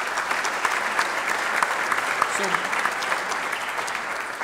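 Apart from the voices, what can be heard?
audience applause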